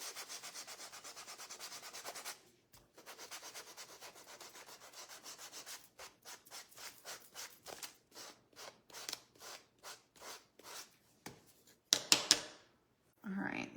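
A painted wooden spindle heart is sanded by hand: a steady rubbing scrape at first, then a run of short rhythmic strokes after a brief pause, close and fairly quiet, ending with a few sharper scuffs and handling noises.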